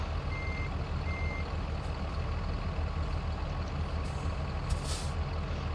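Air brakes being set on a truck in American Truck Simulator, a steady idling diesel rumble with a pair of short beeps early on and a brief hissing release of air near the end.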